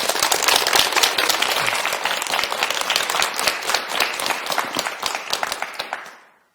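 Studio audience applause, a brisk burst of many hands clapping close and loud, with sharp individual claps standing out, tapering off and cutting to silence after about six seconds.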